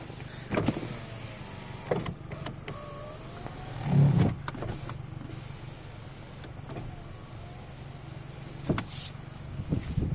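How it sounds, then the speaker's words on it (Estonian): A Honda Civic 1.6 VTEC's electric windows whir up and down in several short motor runs, close by, separated by quiet pauses and a few soft clicks. "Elektriaknad."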